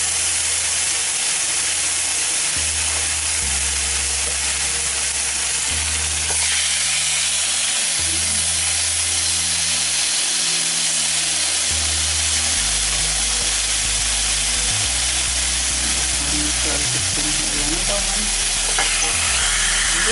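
Lamb shoulder browns in olive oil in a pan, giving a steady loud sizzle and hiss throughout with occasional stirring and low rumbling shifts, no voices.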